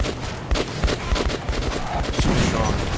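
Shotgun fire in the video game Metro 2033 Redux, a dense run of repeated loud blasts and booms in quick succession over about three seconds, with faint talk.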